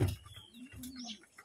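Homing pigeons returning to a loft, with soft cooing and short chirps close by over quiet background noise.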